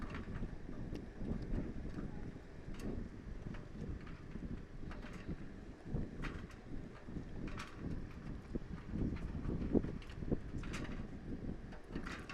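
Steady afternoon wind buffeting the microphone at an IWT Fiji Surf Pro competition, a continuous low rumble with gusty swells and occasional crackling bursts, no talk.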